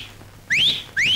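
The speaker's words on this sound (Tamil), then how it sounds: "நானும் இப்படியேதான் அடிக்க போறேன் விசில்." A person whistles two short, bright notes that each sweep upward, separated by a brief pause, loud and close in a Tamil film scene, with no speech.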